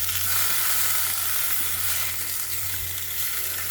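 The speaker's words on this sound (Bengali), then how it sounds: "ভেজে রেখে দিই।" Food frying in oil in a home kitchen gives off a steady, close, even sizzle and hiss that runs unbroken for the whole stretch, with no talking.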